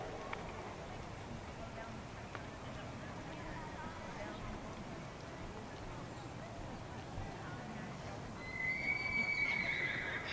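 A horse whinnies clearly near the end, loud and close, after a steady stretch of outdoor noise where hooves clip-clop faintly; the setting is a riding lesson with walking commands.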